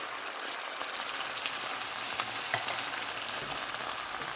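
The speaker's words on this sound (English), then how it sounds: "I'm going to go ahead and add my tinned tomatoes" Tinned tomatoes hit a pan of frying ground beef, giving a steady, hissing sizzle like rain, with faint stirring scrapes throughout, close and even in loudness.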